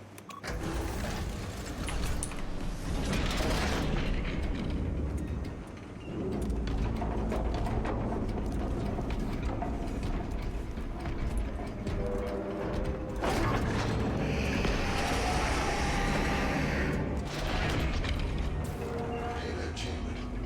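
A heavy payload locks into its chamber in Space Marine 2, with dense grinding, creaking and ratcheting machinery running continuously and loudly, broken by brief dips before the clanking mechanism resumes.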